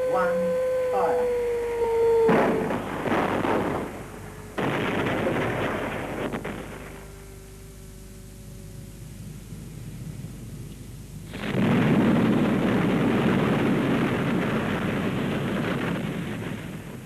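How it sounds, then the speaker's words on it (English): A simulated coal mine gas and coal dust explosion test: a heavy booming blast rolls out, a second loud rumbling burst follows, and a third long roaring surge builds and holds to the end, with no talk. "This test footage of the simulated coal mine explosion demonstrates that as the gas ignites, the explosion generates coal dust"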